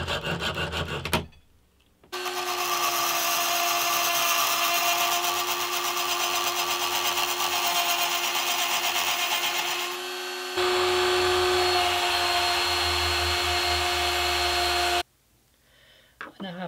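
An old cordless NiCad drill whirs at a steady, high-pitched hum, briefly shifts tone, runs on, then stops.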